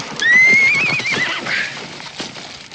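A horse whinnies loudly and close in a frontier-era drama, with a long descending neigh over faint hoof clatter and room noise.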